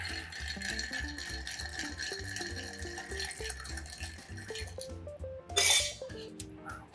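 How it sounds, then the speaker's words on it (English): A bourbon cocktail is stirred with ice, producing light clinks and rattles over steady background music, followed by a brief louder burst of clattering ice near the end. "Give it a little stir."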